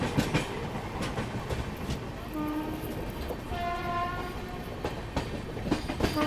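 A passenger train rushes by on an Indian line between Bhubaneswar and Kolkata, heard with rhythmic clickety-clack and a brief horn blast amid a continuous rolling rumble.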